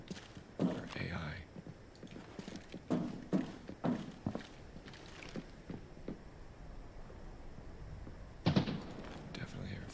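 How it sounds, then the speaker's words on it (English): Footsteps in the video game Arena Breakout: Infinite thud in an irregular series of soft, muffled impacts over a low ambient hum, with a few heavier knocks. "Definitely hear footsteps."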